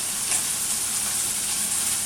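Rice frying in a pan for fried rice, a steady loud hiss and sizzle filling the whole moment, close up with no talking.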